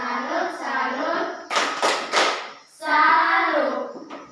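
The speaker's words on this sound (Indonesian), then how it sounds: "Tepuk salut." A school class claps hands in applause, bursts of loud clapping between stretches of children's voices chanting together.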